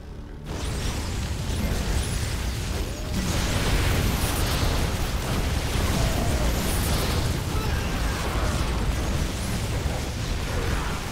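Hellion attack in StarCraft 2 battle, a dense, loud, continuous roar of flame bursts, explosions and mechanical clatter sustained throughout, without speech.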